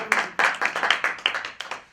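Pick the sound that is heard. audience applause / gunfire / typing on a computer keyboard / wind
audience applause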